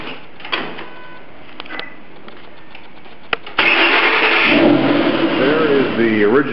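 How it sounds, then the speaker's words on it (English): A Shelby's supercharger whines with its inlet air resonator removed, giving quiet mechanical noise at first and then a sudden loud, sustained rising whine as the engine revs, heard close up. "It's going to replace the existing inlet air tube, which has a muffler inside, which dampens the sound of the supercharger."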